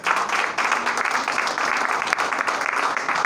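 A congregation claps in welcome during a Friday worship service at Hope of Grace Fellowship in Kuwait, a dense, even patter of many hands sustained throughout at a fairly close, steady level.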